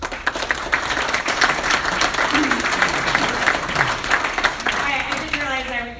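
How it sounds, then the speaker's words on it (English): Loud, dense applause from an audience fills the room steadily, with a few voices and murmurs mixed into the clapping as it begins to fade near the end. "Please give her a huge round of applause."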